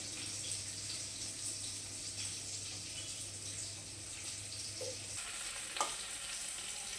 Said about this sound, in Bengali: মাছগুলোকে একটু কড়া করে ভেজে নিচ্ছি, খুব কড়া না, হালকা ফুলকা কড়া করে ভেজে নিচ্ছি